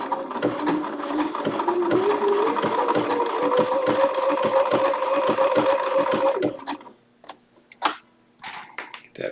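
A Bernina sewing machine runs an applique stitch at a steady, rapid rhythm, close and loud for about six and a half seconds, then stops, leaving a few faint clicks and handling sounds.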